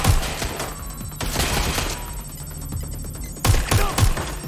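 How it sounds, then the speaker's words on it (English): Video game gunfire in Watch Dogs Legion, rapid bursts of automatic shots in several clusters with a brief lull between them, loud and close. "Somebody's shooting."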